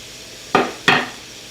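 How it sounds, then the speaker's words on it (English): Two quick stirring scrapes in a pan of cumin, salt and pepper for a wet burrito filling, close and distinct, each ending in a short fading sizzle. "Give that a mix."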